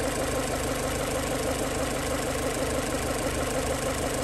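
A car engine idles steadily while warming up to operating temperature, a continuous close, even rumble with a regular low pulse and no pauses or voices.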